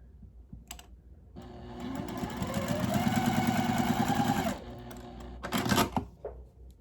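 A sewing machine stitching cotton quilt pieces together runs in a steady, fast rattling whir for a few seconds, close up, starting and stopping abruptly with brief handling clicks around it.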